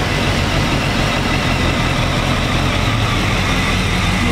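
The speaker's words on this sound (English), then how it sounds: "It's fired up so you can hear what it sounds like." A 2007 BMW K1200S sport motorcycle engine idling, a steady, loud, close rumble holding an even tone throughout with no revving or talk.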